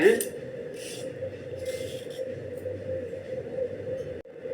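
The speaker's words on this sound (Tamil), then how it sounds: "இந்த மாதிரி எல்லாத்தையும் நம்ம சீவி எடுத்துக்கலாங்க." Carrots scraped with a hand peeler, a steady close rasping that runs almost without a break for several seconds and cuts off briefly near the end.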